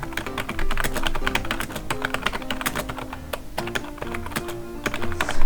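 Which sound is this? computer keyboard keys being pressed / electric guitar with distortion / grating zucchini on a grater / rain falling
computer keyboard keys being pressed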